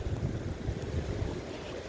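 A dredging operation pumps sand and water into a trench, giving a steady, broad rumble and wash throughout, with wind buffeting the microphone.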